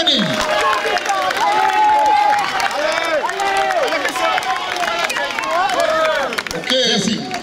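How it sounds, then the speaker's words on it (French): A French audience applauds at a strongman "Hercules" championship, clapping and cheering blended with loud crowd hubbub and overlapping voices for several seconds before fading. "On applaudit."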